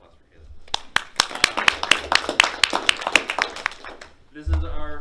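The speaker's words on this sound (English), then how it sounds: "Round of applause for Haley." A small audience at a law school panel discussion gives a short round of scattered clapping for Haley that rises, holds for about three seconds and fades before a voice resumes speaking.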